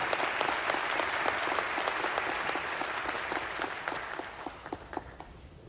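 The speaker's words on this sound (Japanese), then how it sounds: "大きな拍手をありがとうございました" Applause for the players fills a hall at Nagoya Grampus's 2023 new-squad presentation, a dense steady clapping with sharper individual claps standing out, fading slightly toward the end.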